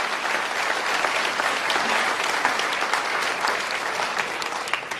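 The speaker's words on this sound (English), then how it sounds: "let's give a nice round of applause" Steady, full audience applause for storytellers at a live storytelling event on stage, dense continuous clapping throughout at close range with no talking.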